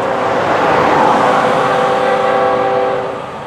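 FEC109 freight train rolling past, a loud continuous rumble and rail roar that holds steady and then begins to fade toward the end.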